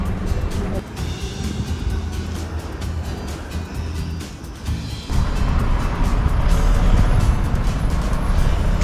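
A car goes by on a street in Shonan, Kanagawa, the engine and tire noise swelling loud and close about halfway through, with people chatting nearby throughout.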